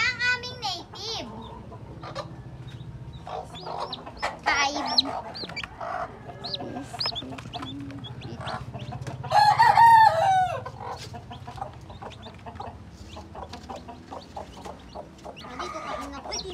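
Native chickens cluck continuously nearby on a farm, and a rooster lets out one loud crow partway through. Faint voices are heard in the background.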